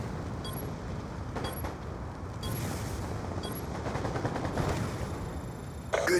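Gunfire in the video game Call of Duty comes as rapid automatic bursts and sharp single shots over a steady, busy game background, fairly loud and repeated throughout.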